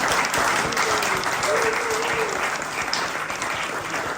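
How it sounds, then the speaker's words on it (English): Audience applause for the speakers at the close of a pub politics talk evening, a steady dense wash of clapping from a crowd that holds for several seconds, with faint voices murmuring underneath. "Can we please have a final round of applause, and thank you so much to all our speakers"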